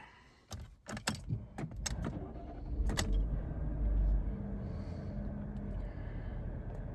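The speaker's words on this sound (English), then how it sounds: "So here we go, we'll start the car up" Jeep Renegade 1.3 petrol car starting up: keys jangle and click near the start, then the engine turns over and settles into a steady low idle rumble inside the cabin.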